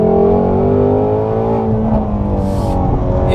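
A Ford Mustang Shelby GT350R's V8 drones loudly and steadily on a circuit, holding high revs with slowly shifting pitch throughout.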